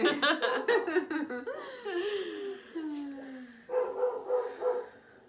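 Several dogs barking and howling together, with rising and falling vocal tones lasting throughout, loud and close.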